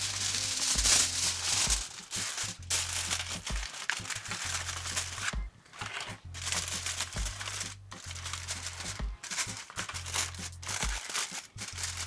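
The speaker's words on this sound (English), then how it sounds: "cover with a piece of foil and place in a preheated oven" Aluminium foil crinkles and crackles loudly up close as it is pressed over a pot for a one-pot oven dinner, a steady run of rustling with brief pauses and a faint low hum underneath.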